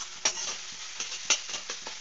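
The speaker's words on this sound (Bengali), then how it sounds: "ডিম ভাজতে সময় লাগে না, ডিম ভাজাটা বেশ জলদি হয়।" An egg fries and is stirred in a pan with a close, steady sizzle, punctuated by repeated scraping taps of the utensil roughly every fraction of a second.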